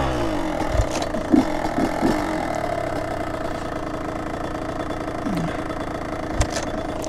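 A 70cc moped engine idles steadily after starting, a constant low mechanical drone with a few brief knocks and thumps near the start and end, recorded up close with no talking.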